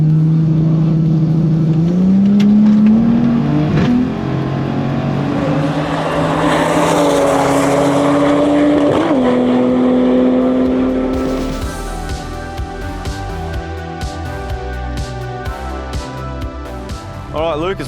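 Race cars at Calder roll racing and drag racing: an engine roars and rises through gears with a strong, climbing whine, then gives way to talk over a lower background rumble.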